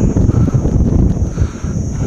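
Steady wind buffeting the microphone outdoors at a temple with mountains in the distance, a loud continuous low rumble with no talk over it.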